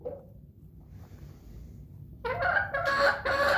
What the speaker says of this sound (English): watching the chickens be themselves, make their little noises